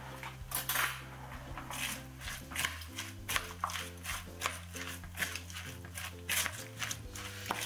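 A spoon stirs okonomiyaki batter in a bowl, making quiet, irregular clinks and scraping taps against the dish. Steady low hum and tonal background noise sit beneath the stirring, and no one speaks.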